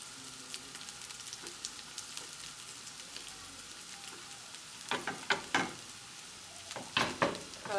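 Onions and bell pepper frying in a pan, a steady soft sizzle with several louder stirring scrapes and crackles toward the end, close and alone.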